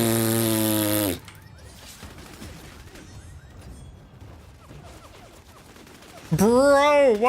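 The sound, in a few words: gunfire in video game Bloodhunt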